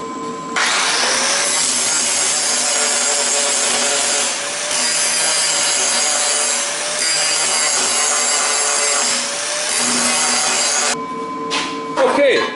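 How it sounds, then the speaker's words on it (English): Welded metal brackets are ground down with a power grinder, making a loud, harsh, continuous abrasive whine close by that holds for about ten seconds, then stops abruptly, followed by a few brief clunks. "I think we'll go ahead and try to grind those up a little bit."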